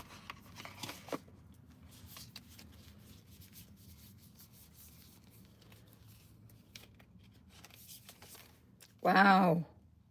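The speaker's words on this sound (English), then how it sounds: "Getting another card out." Tarot cards being handled, soft scraping and rubbing of card stock with a few sharper flicks, quiet and close, while a person speaks and a brief louder voice sound near the end.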